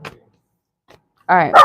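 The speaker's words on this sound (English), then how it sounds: "And I'm sorry about the dog barking." A dog barks once near the end, a short loud bark following a brief spoken phrase and near silence, heard indoors during a live reading.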